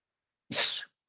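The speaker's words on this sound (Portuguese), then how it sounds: "estava espirrando" A single loud sneeze bursts out suddenly, alone, lasting under half a second.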